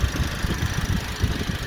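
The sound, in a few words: Toyota Vios car engine idling after service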